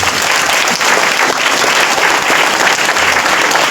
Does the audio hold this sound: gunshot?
no